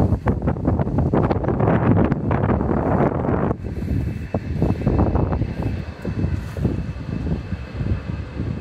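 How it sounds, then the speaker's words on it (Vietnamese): An airplane comes down to land near Cam Ranh airport, a broad, steady rumble heard from outdoors and partly buried under strong wind buffeting the microphone. "Đấy, máy bay đang xuống."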